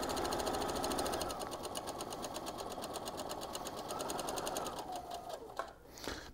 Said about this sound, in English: I'm going to go ahead and take a few stitches. I'm going to back stitch